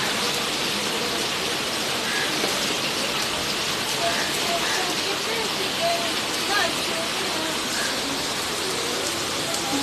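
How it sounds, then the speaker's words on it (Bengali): Steady rain pours down over a market street lined with goat-meat, chicken and vegetable shops, a dense, even hiss that never lets up, with faint voices mixed in. "বৃষ্টি"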